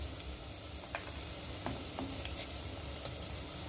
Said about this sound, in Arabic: احركهم مع بعض يعني تشويحة خفيفة